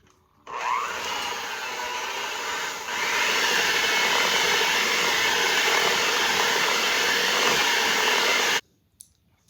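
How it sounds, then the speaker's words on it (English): An electric mixer beating pink champagne cupcake batter gives a loud continuous whirring buzz that starts abruptly, steps up slightly in intensity partway through, then cuts off. "We're going to mix this until it's well combined."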